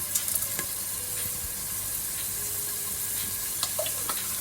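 Oxtail soup ingredients with onions and anise being sautéed in a pan, a continuous close sizzle with occasional stirring scrapes and clicks, no voices.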